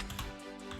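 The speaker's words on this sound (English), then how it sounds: "typing." Rapid keyboard typing in a shmup-spinoff typing game from Dororo (Blood Will Tell), short burst of clustered clicks, close and steady, with no talk.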